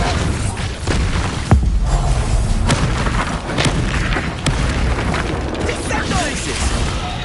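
Expulso blasting spell in Hogwarts Legacy on PS5, loud booming bursts and sharp thuds over a dense game soundscape, with voices shouting during combat.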